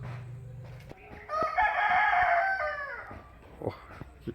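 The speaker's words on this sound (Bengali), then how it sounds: "মোরগটা খুব গলার ডাক আমাদের" A farmyard rooster on a farmhouse gives one loud, close, drawn-out cock-a-doodle-doo crow lasting over a second, with brief quieter clucks and rustling before and after.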